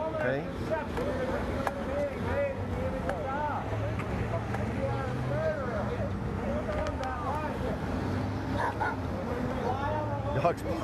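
A dog at an outdoor growers market barks and yips repeatedly in short, uneven bursts, fairly close, mixed with people talking over a busy crowd background.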